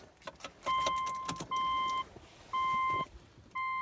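A 2006 Subaru Outback XT with automatic transmission switched into accessory mode gives a series of clear electronic chime tones, three to four sustained beeps in an even on-off rhythm, close and loud inside the cabin with faint rustling between them.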